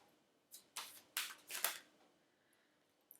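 Oracle cards are shuffled in four or five quick riffling bursts, close and fairly quiet, followed by silence.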